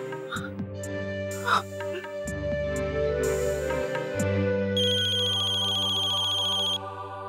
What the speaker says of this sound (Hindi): नैतिक, कब से फोन कर रही हूँ मैं आपको, फोन क्यों नहीं उठा रहे हैं आप